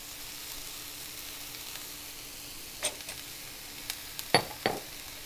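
Brussels sprouts stir-fried with salt in a pan over a medium flame give a faint steady sizzle, broken late by a few sharp clinks and scrapes of a spoon against the pan.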